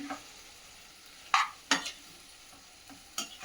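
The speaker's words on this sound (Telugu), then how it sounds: "ఈ టమాటా ముక్కలు వేయంగానే ఒక్కసారి ఇలా తిప్పేసి" A spoon stirs chopped tomato pieces in hot oil in a pan for tomato chutney, a few distinct scraping strokes over a soft, quiet sizzle.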